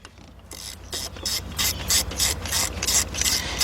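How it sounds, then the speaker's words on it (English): A ratchet wrench clicks as it tightens water pump bolts on a Hyundai XG350 engine, a fast run of rhythmic metallic pawl clicks in repeated strokes, close and loud with no talk. "Now we're gonna go ahead and tighten them up."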